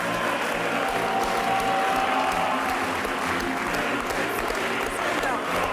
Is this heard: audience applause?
yes